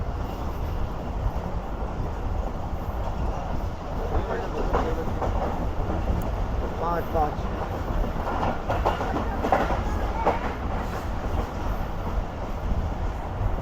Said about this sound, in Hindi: 6:50 पर हमारी ट्रेन इस वक्त दौड़ रेलवे स्टेशन से दौड़ रही है